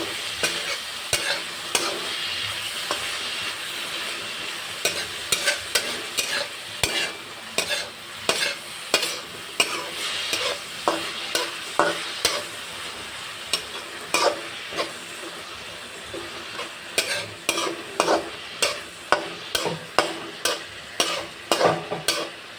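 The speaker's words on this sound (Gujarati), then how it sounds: "હવે આપણે બધા જ શાકભાજીને ગોલ્ડન બ્રાઉન સુધી કૂક કરી લઈશું।" Vegetables for moong pulao stirred and fried in a pan, with a steady sizzle under repeated scraping strokes of a spoon. The strokes grow quicker and more rhythmic toward the end, close and clear with no talking.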